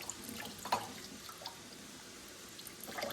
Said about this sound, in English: I need to pour some of this juice out.